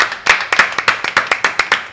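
Quick, sharp handclaps from an audience at a comedy show form a brisk, fairly even rhythm of about a dozen claps over two seconds, close and clear with no talk.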